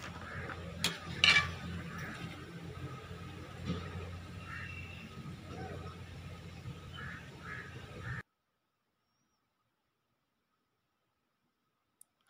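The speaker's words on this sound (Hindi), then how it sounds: "अब इसमें ये सारे मसाले डाल के इसको अच्छे तरीके से मिक्स कर दें।" Spices are stirred into a moringa root pickle, with soft scraping and quacking squelches of the mixture close up for about eight seconds before silence.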